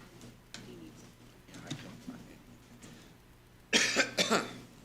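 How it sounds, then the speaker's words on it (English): A short burst of two or three dry coughs near the end, close and fairly loud, after quiet background sounds and faint talk. "I got a dry cough here."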